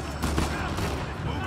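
Gunfire from a hard-kicking gun in Uncharted 4, a fast volley of loud close shots packed into a second and a half, with a voice mixed in.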